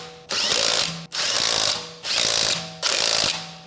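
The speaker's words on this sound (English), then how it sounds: "Use a 17mm socket to secure the rear lug nuts" A ratchet socket wrench cranks rapidly on the rear wheel lug nuts of a 2006-2011 Honda Civic, with four long bursts of dense ratcheting clicks separated by short pauses. The sound is loud and close, with no voices.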